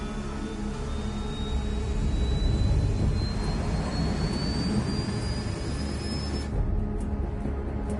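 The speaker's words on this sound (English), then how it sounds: "All this plane could do was take off, accelerate, and fly up." A jet plane in Ace Combat 7 roars loudly as it takes off and accelerates, with a steady engine rumble and a rising whine that swells, then cuts off abruptly near the end.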